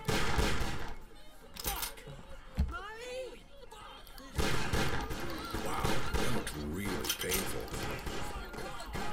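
Gunshots from shooting people in the Postal 3 video game, sharp loud cracks scattered through a busy mall scene, with people talking over and between the shots.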